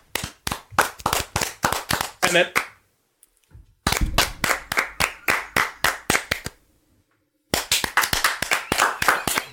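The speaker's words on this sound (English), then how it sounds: "And then begins the incessant, what was it, like 2-minute long clap session?" Rapid, insistent handclapping from the low-budget film Birdemic: Shock and Terror repeats in bursts broken by brief gaps. Loud, close claps come in quick steady rhythm, with a few words spoken at the start.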